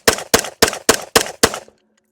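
A Glock 45 pistol fires six sharp, loud shots in quick, even succession, each crack ringing out briefly before the next, with the last report fading into quiet.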